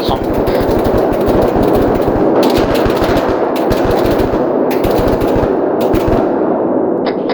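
Sustained machine gun covering fire in the military sim ArmA 3, loud and close, rapid bursts hammering in a near-continuous rhythm for the whole stretch with only brief gaps.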